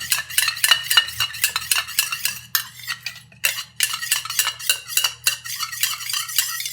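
A spoon stirs coffee powder mixed with other ingredients in a small bowl, making rapid, rhythmic scraping clinks that repeat close up with a brief pause midway.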